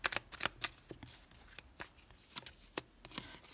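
Tarot cards are handled and laid down in a quiet setting: a series of soft, crisp flicks and slaps at an irregular pace, close and fairly faint, with no talking.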